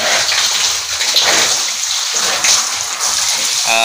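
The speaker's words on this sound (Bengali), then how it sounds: "ময়লা পানিগুলো বের হয়ে যাচ্ছে" Dirty water gushes out of RFL plastic pipes into a cattle trough, a loud, steady, close splashing rush that continues without pause.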